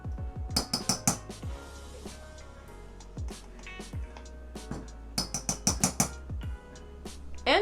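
Apple pie filling with cinnamon, nutmeg and cornstarch stirred in a bowl, a utensil clinking and scraping against the dish in quick bursts of taps with quieter stretches between, close by and with no talking.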